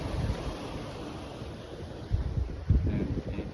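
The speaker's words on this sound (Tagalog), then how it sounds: "Yan ang dagat dito." Sea waves wash against the shore of an island under steady wind buffeting the microphone, with a couple of heavier surges of surf toward the end.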